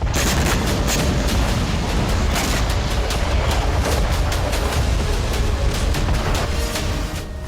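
Dense, loud, continuous roar of explosions and shelling in wartime Ukraine, with sharp bangs cutting through a heavy rumbling din from start to finish.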